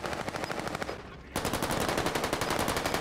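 Rapid automatic gunfire from a multiplayer battle game, dense rhythmic bursts that pause briefly near the one-second mark and then resume even louder, close and continuous without speech.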